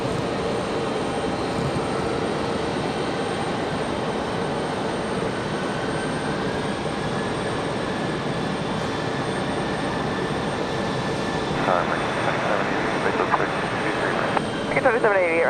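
A CRJ jet taxiing at Raleigh-Durham airport on a humid evening gives off a steady, droning engine rumble and whine throughout, with a voice talking over it.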